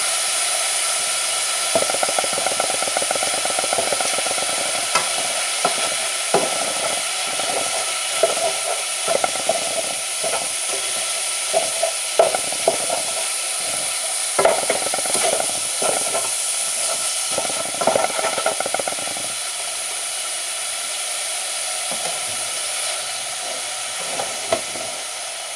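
Ground beef sizzles and hisses steadily in a pan on high heat, with intermittent scraping and stirring clicks over the continuous fry, no voices.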